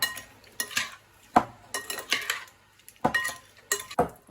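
A soy sauce seasoned preparation being mixed with a utensil, producing irregular clanks and scrapes against a pot or bowl in short bursts separated by brief pauses, close by.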